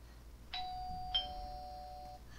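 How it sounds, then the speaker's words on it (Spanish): Electronic two-tone doorbell chime, a ding followed by a dong that rings out and fades, clear and moderately loud over a quiet room. "justo cuando me acuesto tienen que llamar al timbre"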